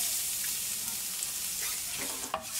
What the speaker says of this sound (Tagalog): gisa tayo ng garlic